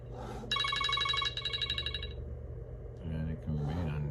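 A phone rings from an unknown caller, a bright electronic ringtone trilling in a repeating burst near the mic, followed by quieter tones and a brief voice.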